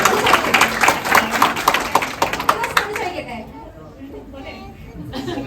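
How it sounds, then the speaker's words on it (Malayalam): A crowd at a Kerala YouTuber meet-up in Kochi bursts into close, dense clapping, which fades out after about three seconds into murmuring chatter and scattered voices, then a few claps return. "അത് കേൾക്കുമ്പോൾ നല്ലൊരു കൈയടി കൊടുത്തേ."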